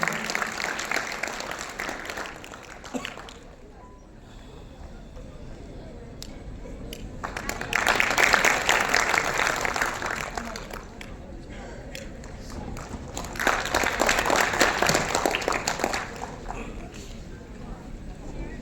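An audience at a student honors ceremony in Kalol breaks into two separate bursts of applause for a guest, each a few seconds long and moderately loud, with speech and quieter room sound between them.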